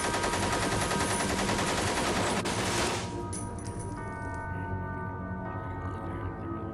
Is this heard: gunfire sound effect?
yes